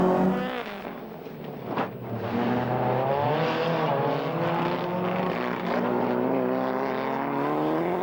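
Rallycross cars race close by with loud, continuous engine roar, rising and falling revs and gear changes as several cars pass and accelerate together.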